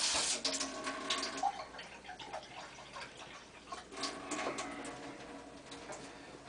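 Water trickles and drips into cooked grape juice in an ancient juice preservation experiment, a faint, uneven pouring with small ticking splashes throughout.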